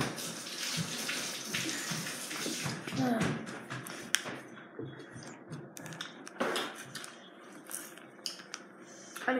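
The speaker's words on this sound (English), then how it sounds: "I'm gonna go wash my hands." Water runs steadily from a faucet while hands are washed at a sink, a continuous splashing hiss close by with occasional clinks and handling noises.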